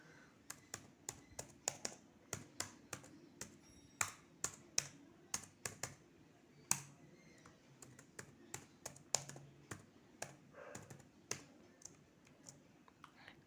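Computer keyboard keys are typed in short irregular bursts of crisp clicks while a login username and password are entered during a Kali Linux startup, with a low steady hum beneath.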